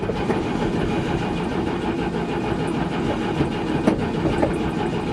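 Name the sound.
1963 GMC V6 engine firing briefly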